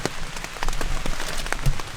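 Steady rain patters on hunting gear outdoors in the North Georgia woods during a bear hunt, a dense close hiss of drops with scattered sharper taps throughout, no voices.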